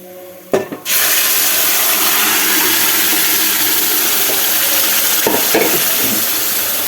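Mustard seed tempering poured into a coconut curry, with a sudden sharp crackle at the pour followed by a loud, steady sizzle that fills the rest, and one or two brief pops near the end.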